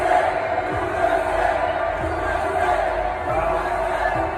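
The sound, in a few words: overflow crowd outside a political rally venue in Minnesota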